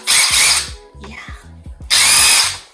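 A cordless power drill with a built-in light whirs loudly in two strong bursts, with quieter clicks and a short mechanical whine in the pause between them.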